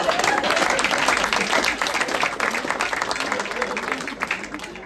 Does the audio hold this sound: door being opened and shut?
no